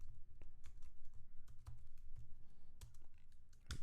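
Quick, uneven clicks of computer keyboard keys being typed on, clattering in short bursts with a louder keystroke near the end, no voices over it.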